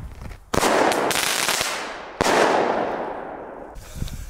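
Two loud firework bursts in quick succession, each a sharp bang that spreads into a long crackling hiss and fades, with a quieter pop near the end; the shell is a crackling effect from a Belgian pyro shop.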